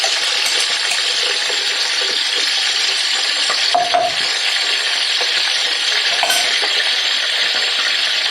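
Onions fry in a pan for a crab dish while being stirred, giving a loud, constant sizzle with occasional scrapes and clinks of the utensil against the pan.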